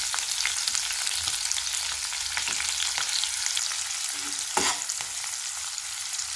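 Cumin, onions and green chilies fry in a hot pan with a dense, continuous sizzle and crackle, broken by a few scraping stirs.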